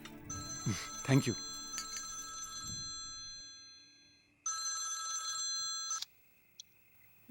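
A telephone ringtone plays on an incoming call, a bright electronic trill that sounds in bursts after a voice is heard speaking at the start, then cuts off abruptly.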